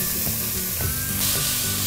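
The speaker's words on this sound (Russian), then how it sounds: "Добавляем растительного масла в сковородку и обжариваем лучок с" Steady, loud sizzling of onion and carrot frying in vegetable oil in a frying pan, with faint stirring sounds and no voices.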